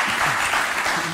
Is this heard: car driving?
no